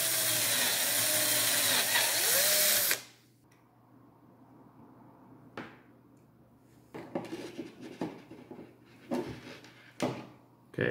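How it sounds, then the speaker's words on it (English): A power drill bores a hole in the lid of a homemade telescopic antenna, whining loudly for about three seconds before stopping. Scattered clinks and handling noises of small parts follow. "Then you have to drill one hole here nearby this."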